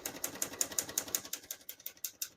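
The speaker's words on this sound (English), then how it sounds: "We're going to keep that on single for now and finish typing." Rapid keystrokes on a 1962 Olivetti Lettera 22 portable typewriter, a steady run of sharp, close clicks and clacks at an even typing rhythm with no voices.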